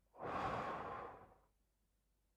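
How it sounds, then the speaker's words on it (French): A single slow breath, drawn and released as part of a breathing exercise, soft and airy and close up, lasting about a second before fading to silence. "on va faire une respiration"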